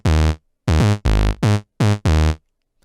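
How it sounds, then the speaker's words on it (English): Diva synth sub bass built from a triangle and a saw wave with the cutoff filter opened, playing five loud, bright, buzzy sustained notes in a short choppy rhythm with silent gaps between them. "here we're using again a triangle and a saw wave"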